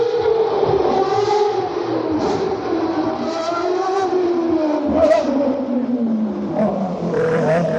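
A 2012 Formula 1 car, Sebastian Vettel's, drives past at a public demonstration, a loud continuous engine roar with shifting pitch sweeping by, while spectators talk over it.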